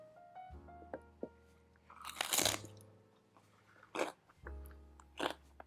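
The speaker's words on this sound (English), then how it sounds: "Got some celery here. I'm just going to give it a taste." Someone bites into a stick of celery dipped in smooth, creamy hummus with a loud, close snap, followed by a few quieter wet crunching chews.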